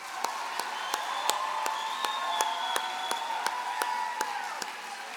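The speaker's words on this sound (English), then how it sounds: "Please join me again in congratulating the Kansas FFA Band on a great performance." A crowd applauds the Kansas FFA Band steadily throughout, dense clapping with a few sharper claps standing out, fairly distant and reverberant in a large hall.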